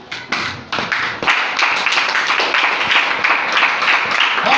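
A church congregation claps and applauds together in a steady, loud, dense patter of hands that builds after a brief start and carries on without pause, with a little voice faintly underneath.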